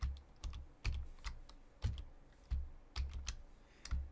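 Soft computer keyboard typing of a password, a handful of separate keystroke clusters tapped out unevenly in a quiet room with no voices.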